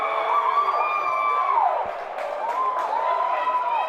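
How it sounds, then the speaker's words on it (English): A long wailing end-of-game stadium siren sounds over a roaring crowd at a women's Australian football match, its pitch rising and falling in sustained blasts. "Siren's going to sound."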